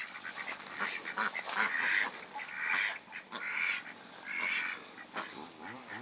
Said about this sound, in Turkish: Ördeklerimiz de burada.